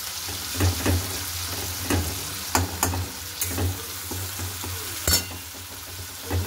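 Lentils and turmeric being stir-fried in a pan: a steady low sizzle runs throughout, broken by sharp, irregular scraping and clacking strokes of the spoon, close and moderately loud, with no talking.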